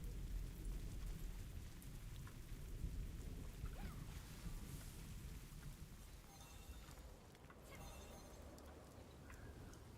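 Steady rain with low rumbling thunder in the online game Throne and Liberty during a large castle siege, a continuous dense wash of sound with no distinct voices.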